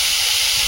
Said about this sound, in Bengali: ভাজা বসিয়ে দিয়েছি